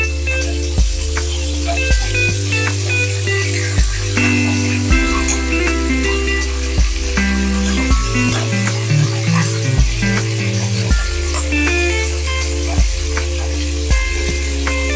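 Chicken sizzling in a pan as melted butter with garlic cloves is spooned over it, a loud continuous sizzle under a prominent music track with a steady bass line.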